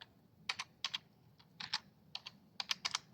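Typing the fdisk command on a computer keyboard while setting up the ARM hard processor system on a DE1-SoC board: short bursts of crisp, close keystrokes separated by brief pauses, with no talking.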